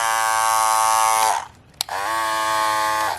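Limited edition gold Andis Master hair clippers running loud and close with a strong steady buzz that cuts off briefly, gives a single click, then starts up again.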